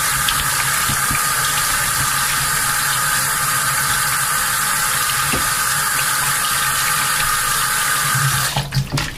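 Running tap water pours steadily into a sink, rinsing chicken wings, with a constant hiss, then tapers off briefly near the end.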